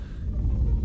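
Deep, continuous storm rumble in the space video game Underspace, a low steady roar swelling slightly through the short stretch, heard alone without talk.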